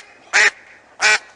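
A live duck on a cooking show set quacks twice, two loud, nasal honks spaced about half a second apart against a quiet background.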